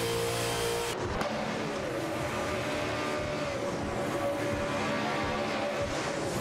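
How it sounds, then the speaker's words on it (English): Holden Commodore race cars, BE and BF models, duel in a racing video game, with a dense, loud engine roar that shifts pitch as they accelerate and rev, heard continuously without talk. "Both drivers are piloting Holden Commodores, with Lacroix 1980 in a BE model and ST4 MBZH in a BF dot"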